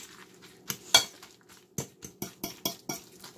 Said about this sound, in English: you're just going to blend this together until it's combined